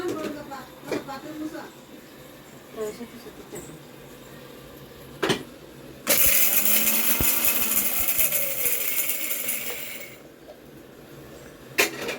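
A kitchen mixer grinder blending pepper, cumin, garlic, small onions and tomato runs for about four seconds as a loud, steady whir, with clatters and knocks before it and short pauses around it.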